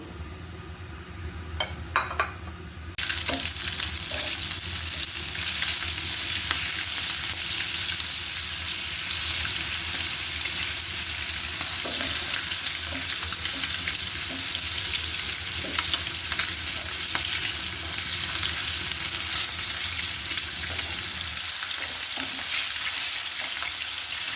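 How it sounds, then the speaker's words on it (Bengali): Boiled eggs fry in hot oil with turmeric and salt for Chittagong-style mocha rice. A steady, loud sizzle runs throughout, with occasional stirring clicks and no talking. "মোচা ভাতের জন্য ডিমগুলোকে আমি হলুদ লবণ দিয়ে ভেজে নিব।"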